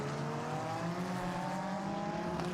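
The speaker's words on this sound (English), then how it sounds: "it's the 99 Craft Bamboo Racing Porsche that leads away at the start of qualifying session number 2" A Porsche GT race car of the Craft Bamboo Racing team pulling away at the start of Blancpain GT Series Asia qualifying at Buriram, its engine a steady, loud droning whine held throughout.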